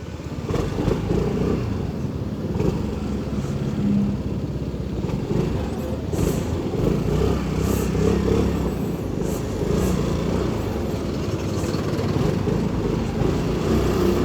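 Motorcycle riding through city traffic, a steady close engine drone with low rumble and surrounding vehicle noise that holds evenly throughout, no talking.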